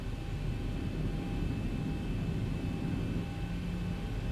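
A fully loaded Boeing 737 taxiing in X-Plane 11 at Zurich, a steady droning engine hum with a constant whine, even and unbroken with no talk.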